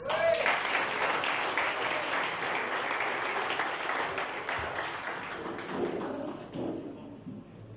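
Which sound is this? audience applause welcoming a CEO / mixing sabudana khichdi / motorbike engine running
audience applause welcoming a CEO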